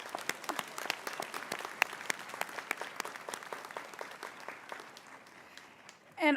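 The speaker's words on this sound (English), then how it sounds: "Now let's give them a round of applause." Scattered applause from a commencement audience: a few distinct, close claps over softer clapping from the crowd, gradually thinning out, with a short voice at the very end.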